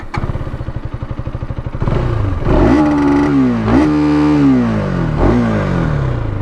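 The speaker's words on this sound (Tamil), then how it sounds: "அண்ட் எக்ஸாஸ்ட் நோட் கேட்போமா?" A KTM Duke 250 motorcycle idles with a steady chugging pulse, then its exhaust note is revved hard several times, rising and falling in sharp bursts close by and loud, with no talk.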